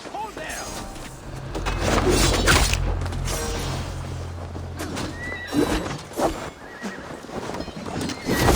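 Horses whinny and hooves clop amid a busy, dense Assassin's Creed Valhalla soundscape during the Siege of Paris, with a low rumble early on and a brief spoken voice near the end.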